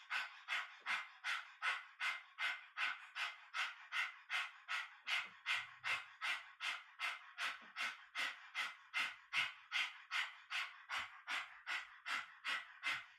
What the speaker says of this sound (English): Get that tongue right out so you can really get this breath across the tongue